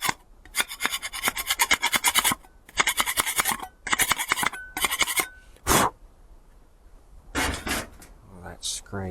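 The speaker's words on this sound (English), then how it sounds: "Now, I'm going to want to clean this surfacing off. Let's get a scraper." Scraper dragged across a surface to clean it during a budget mud mower build: repeated bursts of harsh rasping scrapes, close and loud, with short pauses and a few knocks between strokes.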